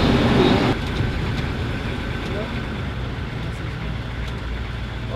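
An American military Humvee driving along, a steady loud engine and road rumble heard from inside the cab, constant throughout with a brief louder patch at the start.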